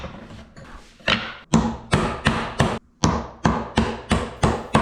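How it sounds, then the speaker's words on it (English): Chisel struck with a mallet chopping waste from a wooden dovetail joint down to the baseline, roughly ten sharp woody knocks in an irregular steady rhythm, close up, with no talk. "Remove most of the waste with a coping saw and then blast it down to the baseline with a chisel"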